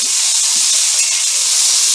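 Green chillies roast in a hot pan for Kolhapuri-style mirchi kharda, giving a loud, close, continuous hissing sizzle with no voices over it.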